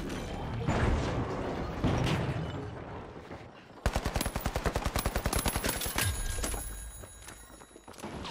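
An AK rifle fires in the shooter game The Finals: a loud, rapid automatic burst of evenly spaced shots lasting about three seconds, preceded and followed by rumbling in-game action noise.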